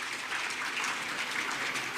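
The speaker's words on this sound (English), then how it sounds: "I think they deserve a round of applause." Applause from the audience at the inauguration of the Lagos Rail Mass Transit red line, a dense, even wash of many hands clapping at a distance with no pauses.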